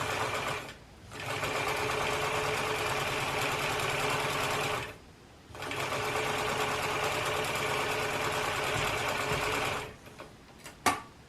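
A sewing machine stitches a hat band seam one centimetre from the fabric edge for a baby's hat, running steadily in three long bursts separated by brief pauses, close and clear with no talk.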